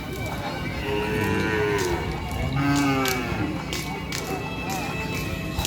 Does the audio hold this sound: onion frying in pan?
no